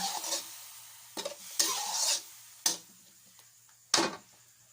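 Spicy stir-fry of long beans with pork belly and a splash of water, heard as a low hiss broken by several sharp scraping stirs of a spatula in the pan, close and alone.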